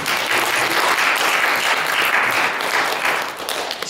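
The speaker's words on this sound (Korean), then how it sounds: "이럴 때는 박수 한번 쳐야죠" A church congregation applauds at a healing testimony gathering, a dense, steady burst of clapping from many hands that lasts throughout.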